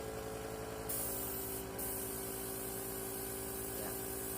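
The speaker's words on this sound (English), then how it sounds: "Let me just spray that to dry it." An airbrush makeup sprayer hisses continuously for several seconds, with a constant mechanical hum underneath and no talking.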